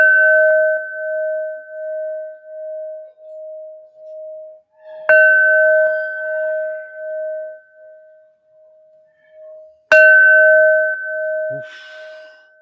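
A bell rung three times as Neptune's bell, each strike a clear bright ding with a long ringing tail that fades slowly, the strikes about five seconds apart, heard alone in a quiet room.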